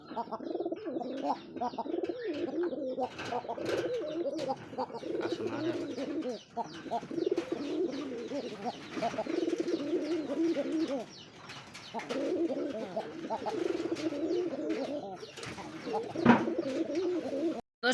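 Pigeons coo steadily throughout, low rolling calls overlapping one another at close range, with a brief dip in the middle before the cooing resumes.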